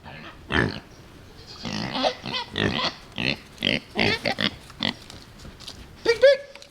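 Pigs on a farm by a pole barn oink and grunt in a string of short, fairly loud bursts at close range, with a brief higher squeal near the end.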